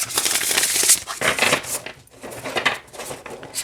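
A Chinese Five Elements oracle card deck of flexible cards being shuffled by hand, giving close, papery riffling and crinkling bursts that come in uneven waves, with a short pause in the middle.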